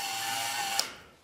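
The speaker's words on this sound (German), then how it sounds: "Aus alten Skateboardrollen, Holzresten und Elektromotoren hat der studierte Produktdesigner seine Schleiftrommel gebaut." Homemade sanding drum built from old skateboard wheels, scrap wood and electric motors, running with a steady high mechanical whir and hum, then spinning down near the end; no talk.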